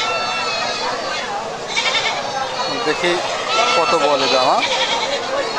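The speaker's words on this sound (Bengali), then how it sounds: "এই দেখেন কত সুন্দর ছাগল, সম্পূর্ণ দেশি জাতের ছাগল" Native deshi goats bleat at a busy local livestock market, their wavering cries rising above crowd chatter and close conversation about prices.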